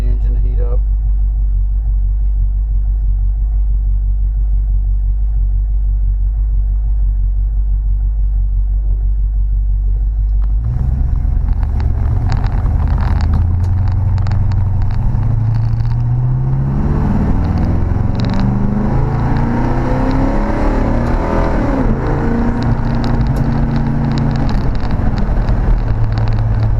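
A Plymouth Fury's 383 V8, recently upgraded, sits warming up with a deep, steady rumble for several seconds, then grows louder and busier as revs rise and fall in a close, powerful roar.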